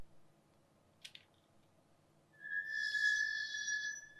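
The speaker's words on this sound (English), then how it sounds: "I slam on the brakes, their shriek piercing my skull." Car brakes shriek in the Highway Blossoms video game: a loud, sustained high-pitched squeal rising suddenly after a brief click and holding for nearly two seconds over a low steady engine rumble.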